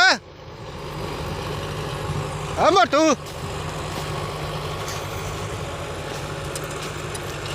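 A tractor engine idles in a steady low drone throughout, with a loud hiss at the start and a couple of sharp rising-falling tones near the middle, while voices talk over it.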